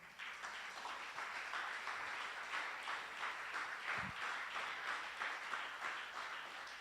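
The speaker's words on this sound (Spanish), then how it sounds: "Dele un aplauso fuerte al Señor." Church congregation applauding during a sermon, a faint, steady wash of many hands clapping that carries on evenly throughout, with one brief low thump near the middle.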